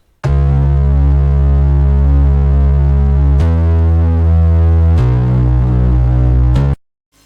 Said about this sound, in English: which is like a Reese bass that sounds like this.